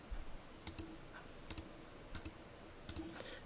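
Computer mouse clicking in drawing software: quiet, close double clicks repeating at roughly even intervals, crisp and isolated over a faint hiss.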